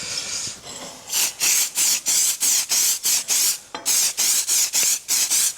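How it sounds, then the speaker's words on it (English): Aerosol cleaner sprayed onto steam engine eccentric parts: a steady hiss, then about a dozen short, sharp, evenly spaced spray bursts, close and loud. "I take it we just spray this stuff."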